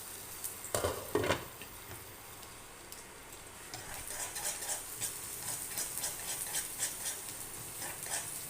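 Homemade food is flipped over in a pan: a couple of quick clattering knocks, then a busier frying sizzle with light scraping ticks that carries on to the end.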